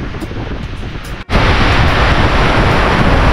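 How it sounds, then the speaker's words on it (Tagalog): Dense, steady roar of heavy rain mixed with strong wind gusts in the Cayman Islands, loud and close, briefly cutting out for an instant before resuming at full strength. "kinakita nyo lakas ng ulan at malakas din ang hangin"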